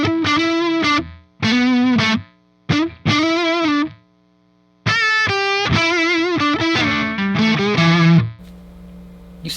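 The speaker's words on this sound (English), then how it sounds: "Turn on the noise gate." Distorted electric guitar through a TC Sentry noise gate pedal, loud chords and notes in bursts that cut to near silence between phrases, with a low residual hum buzz surfacing at the end.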